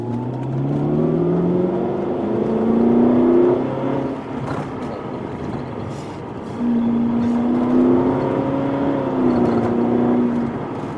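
Ferrari California T engine pulling steadily while driving through an Italian roundabout, a loud, close, continuous drone that rises and falls in pitch with the revs, swelling twice as the throttle opens.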